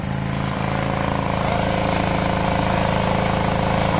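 A Peugeot 103 moped's small two-stroke engine idles just after a restart, a steady, close, buzzing putter with a rapid even rhythm, running on alone without talk.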